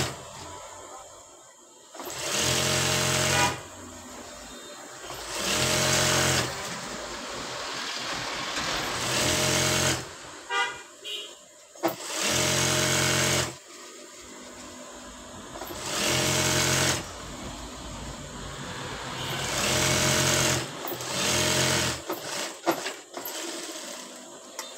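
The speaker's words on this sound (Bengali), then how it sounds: "অবশ্যই এটাকে উল্টাভাবে সেলাই করতে হবে।" Sewing machine stitching a 3.5-inch-wide fabric strip for a new sleeve design, running in several loud bursts of rapid mechanical whirring separated by brief pauses and handling noise.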